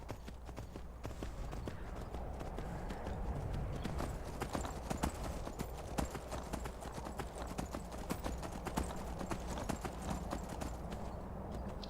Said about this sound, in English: Skyrim horse your way up the mountain here.